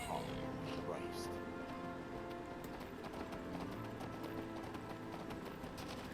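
A summoned horse in the video game Skyrim, its hooves clip-clopping in a quick uneven patter at moderate distance, layered over game ambience and music while a person talks.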